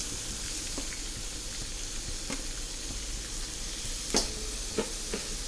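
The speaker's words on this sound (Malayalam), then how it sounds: "ഒന്ന് ചൂടായി വരുമ്പോഴേക്കും നമുക്ക് മുറിച്ച് വെച്ചിരിക്കുന്ന ഉള്ളി" Chopped onion sautéing in a hot pan for Maggi noodles upma, a faint steady sizzle with a few light taps and clinks from a stirring utensil.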